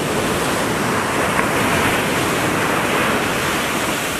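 Two-metre waves break on the beach at Lemong village facing the Indian Ocean, a loud, continuous roar of surf with steady wind-like rushing and no voices.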